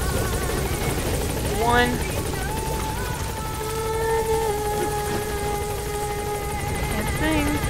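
Helicopter in Metal Gear Solid V: The Phantom Pain, a steady whirring rotor drone running underneath throughout, with game music tones and a voice briefly speaking over it.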